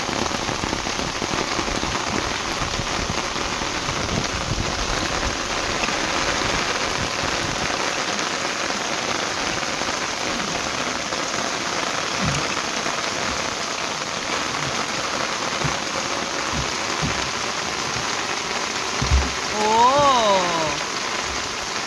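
Steady rain patters on a surface throughout, a dense hiss with occasional louder drops, and brief faint voices near the end.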